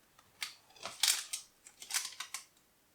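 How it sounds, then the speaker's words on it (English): A knife cuts through a baked chocolate brownie into portions, giving a series of crisp, close slicing and crunching strokes in uneven rhythm, with no talking. "we can cut the brownie into the portion sizes that we want to make"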